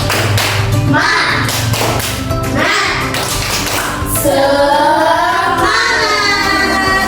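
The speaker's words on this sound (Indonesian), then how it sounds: "mari kita tepuk semangat dulu" A group of schoolchildren in a classroom clap in a quick rhythm while chanting together, loud and close throughout.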